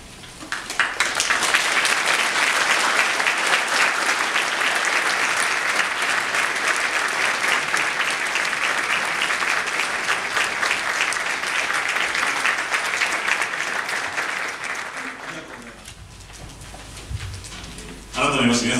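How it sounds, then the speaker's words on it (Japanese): Sustained audience applause welcoming a member of the House of Representatives at a Panasonic labor-management seminar, dense and steady for about fifteen seconds before fading, with a brief burst returning at the end. "皆さんの拍手で、お迎えしたいと思います。"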